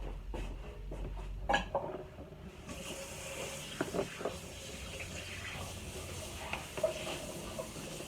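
Tap water runs steadily into a sink during handwashing in a home kitchen, with a few clatters and knocks early on before the continuous splashing flow.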